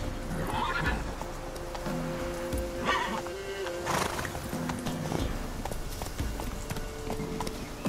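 Horse hooves in The Witcher 3 clip-clop at a steady gait, mixed with neighs and whinnies. Game ambience and tonal music sit underneath, and there is no talking.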